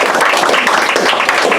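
Loud, dense applause from an audience, many hands clapping at once in a continuous roar that stays strong throughout.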